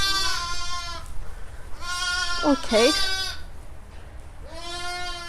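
A Cheviot ewe and her lamb, born that morning, bleat from a pen in a farm shed: several wavering cries come close and clear, with a pause between them and a brief spoken word at the start.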